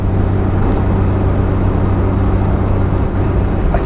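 An Eagle Talon fitted with a new turbo drives along with a loud, steady engine drone and low rumble, continuous road and motor noise from inside the car with no talking.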